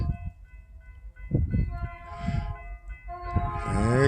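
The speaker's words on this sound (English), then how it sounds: "here come the train" A train approaches on railroad tracks, with low rumbling and clanking wheels building in loudness and a sustained horn blast sounding as it draws near.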